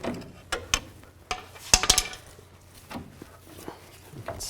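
A ratchet wrench removes the nut from a ball joint stud on the upper control arm of a 2000-2006 Chevy Tahoe. Close, irregular clicking bursts ring out with metallic clinks between the strokes.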